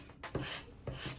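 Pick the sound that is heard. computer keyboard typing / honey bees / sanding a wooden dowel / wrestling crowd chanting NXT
sanding a wooden dowel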